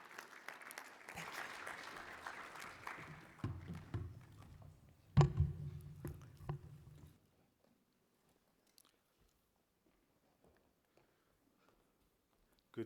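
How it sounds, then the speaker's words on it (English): Audience applause at a conference session breaks out for panel guests, a moderate patter of clapping that builds briefly with some louder knocks and thumps nearby before dying away into near silence. "Please give them a very warm round of applause."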